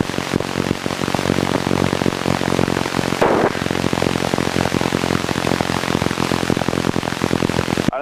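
A Cessna 172N single propeller engine at takeoff power, a loud, steady, buzzing drone heard close from inside the aircraft, with no pauses and no talk.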